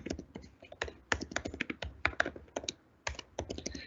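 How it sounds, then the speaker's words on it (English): Quick, clattering keystrokes on a computer keyboard while a command is entered at a command prompt, a close, dry run of irregular taps with short pauses and no talking. "Go to the command prompt and just type in this command over there."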